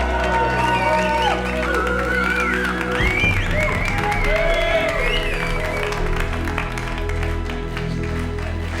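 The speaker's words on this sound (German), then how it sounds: "das verdient wirklich einen Super-Mega-Applaus" Applause and scattered cheering from a small gathered crowd, moderately loud, with tonal music and voices mixed in at first before the clapping settles into a steady patter.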